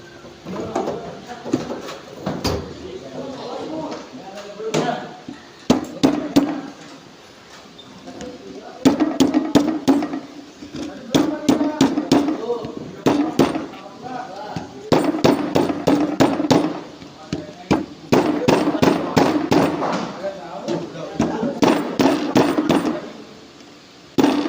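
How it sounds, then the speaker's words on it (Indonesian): A rubber mallet knocks a ring gear off a differential assembly in a series of repeated, fairly loud blows in bursts and irregular clusters, with a voice talking in between. "selanjutnya kita akan melepas ring gearnya menggunakan palu karet"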